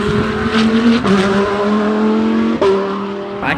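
An Audi race car at the Bathurst 12 Hour sweeps through the S's on its cool-down lap, a steady loud engine drone with gear changes and pitch shifts around one and two and a half seconds, passing fairly close.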